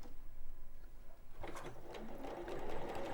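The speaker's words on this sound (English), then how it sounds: "So I'm going to sew that on with a 1/4 inch seam allowance." A sewing machine stitches a quarter-inch seam, starting after a quiet moment with a rapid, steady mechanical whir and clatter that continues to the end, close and alone.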